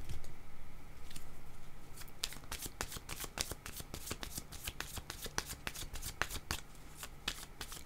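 Playing cards shuffled for a tarot-style card reading, a quiet riffle of rapid crisp slaps that grows denser after the first couple of seconds, close and alone with no voice.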